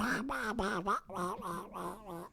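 A human voice imitates a duck, producing a series of about seven nasal, honking quacks in a steady rhythm, loud and close, with no other sound behind it.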